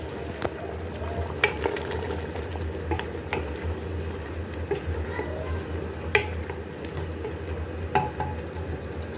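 Mutton masala with tomatoes and fresh coriander frying in a pot while being stirred, a steady low sizzle and bubbling broken by occasional clinks and scrapes of the spoon against the metal, close and unbroken.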